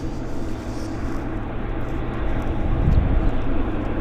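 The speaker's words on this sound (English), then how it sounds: "Air Canada 38, inbound from Sydney, is setting up on approach right now" An Air Canada heavy jet on approach to land at Vancouver on a wet day gives a steady broad engine roar that swells slightly toward the end, heard from a distance with no talk.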